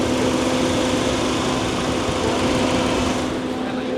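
A Proton X70 1.5T four-cylinder engine runs at a steady smooth hum, recorded close up, with an even low drone and no talking.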